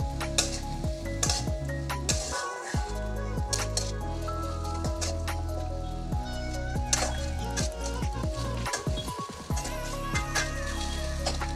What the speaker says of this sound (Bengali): এখন এর মধ্যে একটু ভেজে দেবো, চালটা বেশি ভাজবো না, হালকা ভাজবো।